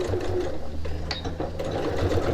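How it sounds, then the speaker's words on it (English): A sewing machine runs a locking stitch back and forth over the end of a tote bag strap, a steady close mechanical whir with a brief sharper click near the middle. "I'll do a locking stitch. I'm going back over the end of the strap"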